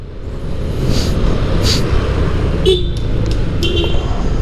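Car horns toot in a traffic jam on a busy street in Palangkaraya, a few short honks rising over a steady roar of engines and road noise.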